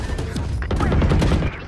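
Gunfire in the tactical shooter Valorant, a dense burst of rapid shots rattling loud and close through a short match moment.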